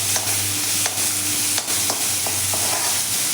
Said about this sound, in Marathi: हे तेलावरती आपण कांदा छान असा फ्राय करून घेऊया.